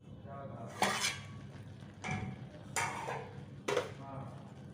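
A pressure-cooker pot of rice set down on a kitchen stove, with several sharp metallic clanks of cookware spaced a second or so apart over a low steady background.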